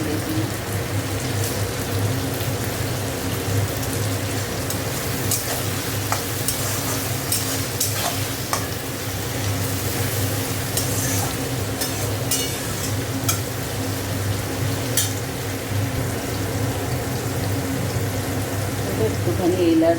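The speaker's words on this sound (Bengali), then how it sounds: "টমেটোটা ভেজে নিচ্ছি ভালো করে" Tomatoes sizzling and frying in a pan with salt and cardamom, a steady close crackle punctuated by scraping stirs, with a voice talking over the cooking.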